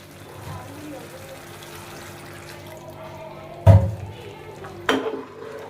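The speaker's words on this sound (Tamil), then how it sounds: "இன்னும் கொஞ்சம் தண்ணி சேர்த்துட்டு மூடிடுவோம்" Water is poured into a pan of prawn thokku, a low trickle under ongoing talk, followed by two sharp clinks of a utensil against the pan.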